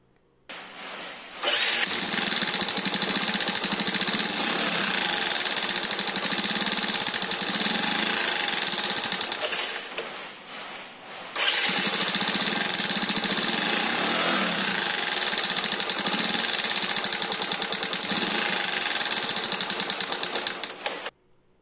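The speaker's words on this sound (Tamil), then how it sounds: "இந்த மாதிரி சவுண்டு தான் வரும், படப்பட படன்னு சவுண்டு ஃபுல்லாக வரும்" Motorcycle engine idling steadily with a rapid ticking valve-clearance tap, loud and close, briefly dropping out near the middle before resuming; no talk.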